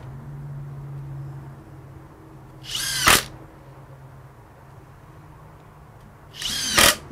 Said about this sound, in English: Here's some 1 1/4 inch deck screws.